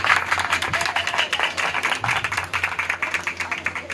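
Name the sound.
congregation's loud applause in church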